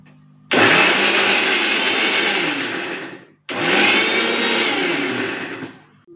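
A blender grinds raw mango into a paste for garlic mango pickle, running loud and steady in two long bursts with a brief stop between them and no talk.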